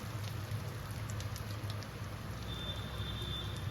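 Three dried red chillies sizzle in hot oil left over from frying prawns, making a faint, steady crackling hiss that continues throughout with no talking.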